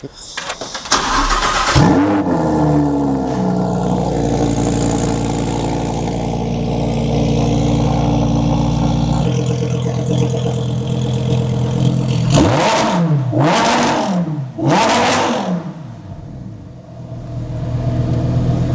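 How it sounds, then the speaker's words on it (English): A Lamborghini Huracan's V10 engine cold-starts, cranking and firing into a loud, sustained idle, then snarls through three sharp, rising revs before settling back down. "we definitely got to hear a little cold start and a rev maybe"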